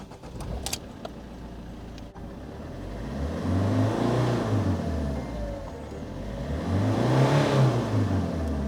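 A van's engine revs up twice after a turbo sensor repair, each rise and fall of pitch swelling loud and close over a steady idle, with a brief jangle of keys at the start.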